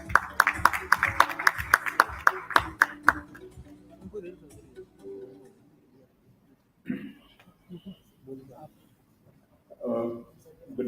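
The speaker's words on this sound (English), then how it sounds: "Let's welcome him with a round of applause" An audience at a live conference event claps to welcome a speaker, a dense burst of applause lasting about three seconds that fades out, followed by someone speaking.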